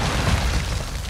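A grenade going off in Call of Duty Modern Warfare 2 team deathmatch, a dense low rumbling boom that fills the whole short moment without fading.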